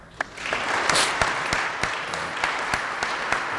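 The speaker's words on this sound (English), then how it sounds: "give him a round of applause" An audience at a Hall of Fame induction ceremony applauds steadily for a few seconds, a broad wash of clapping at moderate level with a few sharper individual claps standing out.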